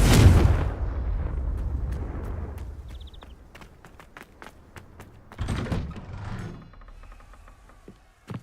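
A Confringo fire spell goes off in Hogwarts Legacy with a loud, heavy explosive burst at the start that rumbles away. A second muffled blast follows mid-clip, and sharp clicks and thuds are scattered throughout.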